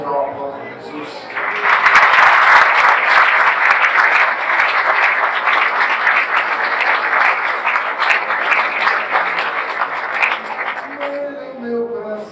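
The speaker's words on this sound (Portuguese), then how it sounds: "Vamos dar uma aplauso a Jesus." A church congregation at a conference breaks into loud, sustained applause after a brief lead-in of singing and talk. Dense clapping carries on for about ten seconds with voices and music underneath, then eases off.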